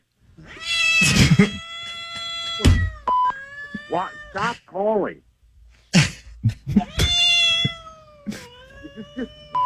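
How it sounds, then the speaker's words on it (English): Recorded cat meows are played over a phone call, loud and repeated in quick bursts, some drawn out into wails, with someone speaking over and between them. "are you just going to call me and play fucking cat sounds into my phone?"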